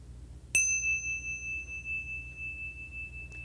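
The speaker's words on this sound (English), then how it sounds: "When you hear the sound of the bell" A single bright bell chime rings out during a children's mindful movement and yoga session, struck once and then sustaining a clear, pure tone that decays slowly over a few seconds with nothing else around it.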